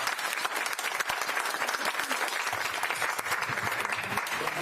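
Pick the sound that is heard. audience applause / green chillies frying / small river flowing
audience applause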